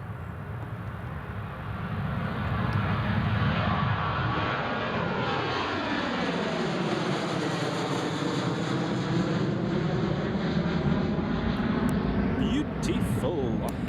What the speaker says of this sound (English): Here goes the Jet2.